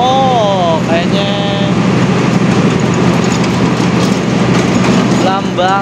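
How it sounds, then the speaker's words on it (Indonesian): A Blambangan Express passenger train bound for Ketapang Banyuwangi, running with economy-class carriages, passes close by with a loud, continuous rumble and rail noise lasting throughout, while people talk over it. "Blambangan, kereta api Blambangan Express."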